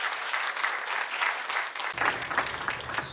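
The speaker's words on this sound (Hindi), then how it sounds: "स्वामी जी का भी एक बार तालियों के साथ जरूर धन्यवाद करिएगा" An audience claps together in thanks to a visiting swami at a Shrimad Bhagavat Katha gathering, a dense, steady wash of applause lasting several seconds with no speech over it.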